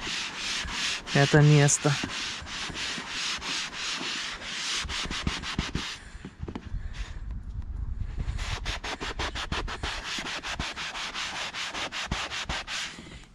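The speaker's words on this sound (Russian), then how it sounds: "Вытираем насухо тряпочкой" A cloth wiped firmly over a vinyl inflatable air mattress during a puncture repair, giving repeated close, dry rubbing and scratching strokes in steady rhythm, with a brief pause midway and a short spoken phrase.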